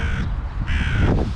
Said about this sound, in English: See a couple of birds.